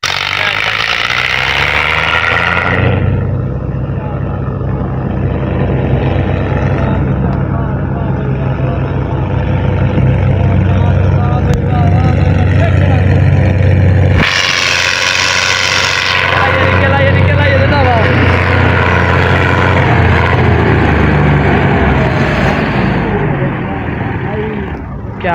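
A tractor engine runs continuously during a rescue of a tractor loaded with wood, a steady rumbling drone with shifts in pitch, under outdoor voices talking.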